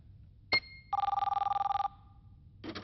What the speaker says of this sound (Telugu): మీరు నొక్కింది ప్రింటర్, ఇది ఫ్యాక్స్.